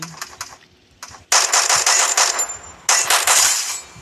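Automatic gunfire in the Free Fire video game, heard as loud rapid bursts: a few scattered shots, then two long sustained sprays separated by a brief pause, close and dominant with no talking.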